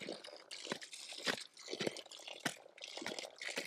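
Spring water trickles and drains out of a spring box, a close, uneven splashing and gurgling with repeated sharper spills every half second or so.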